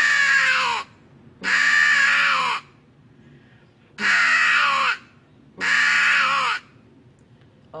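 A game caller imitates a hooded crow's fighting call, giving four long, harsh, rasping caws at close range. The caws are loud and evenly spaced, with quiet gaps between them.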